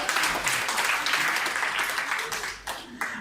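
Applause breaks out across a church congregation, a dense wash of clapping heard up close that fades briefly near the end before a final burst, with a voice partly audible over it.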